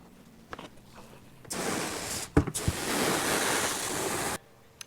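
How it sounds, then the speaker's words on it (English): A rider floor scrubber drains its cleaning solution through a clear hose, a steady rushing, splashing gush of liquid that runs for a few seconds with a brief knock in the middle, then stops abruptly. "Drain solution, the clear hose."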